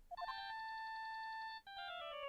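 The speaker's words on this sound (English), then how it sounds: "All of a sudden, the phone began to ring." A cell phone ringing in the Ace Attorney: Justice for All video game, a steady electronic ringtone melody of pulsing tones that shifts to a new pitch pattern partway through, heard alone.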